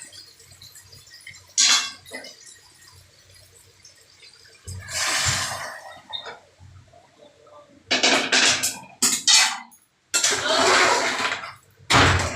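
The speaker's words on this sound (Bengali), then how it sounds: "একটু গরম জল দিয়ে দিচ্ছি" Hot water poured into browned mutton in a pan, several loud bursts of splashing and sizzling separated by quieter gaps, close by.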